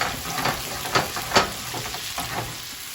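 Vegetables for Jamaican cook-up salt fish sauté in a hot pan, a steady close sizzle with a few louder crackles and stirring scrapes, no talking.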